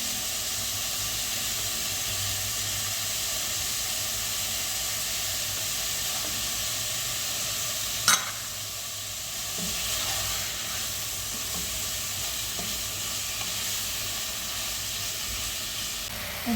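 Meat searing in a pan on the stove gives a steady, even sizzle that holds through the whole stretch, with one sharp clack near the middle and faint stirring scrapes afterward.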